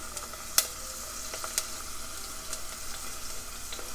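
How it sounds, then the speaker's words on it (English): Onions and chili frying in a pan for an Italian bucatini dish, a soft steady sizzle with a couple of sharp utensil clicks, moderately close and alone without talk. "So now we add in our onions and our chili."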